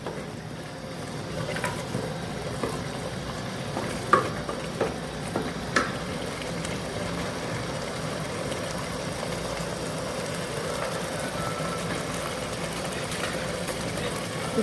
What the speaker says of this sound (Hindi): हमें तकरीबन 3 मिनट हो गए हैं इसको भूनते हुए